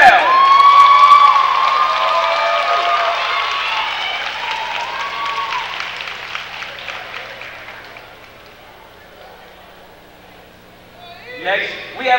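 A basketball crowd at a Fayetteville State University game claps and cheers loudly, a dense sustained roar with whoops that slowly fades, then a short burst of clapping near the end.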